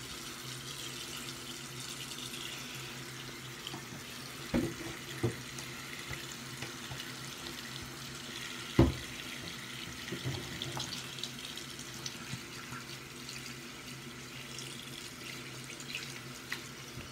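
Hot water running from an indoor tap, a continuous soft hiss of flow with a few sharp clunks and splashes along the way, fairly quiet and with no talk.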